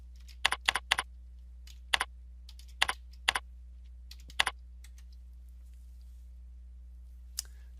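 A computer keyboard clicks in short clusters of keystrokes, crisp and fairly close, with pauses between bursts over a steady low hum and no talking.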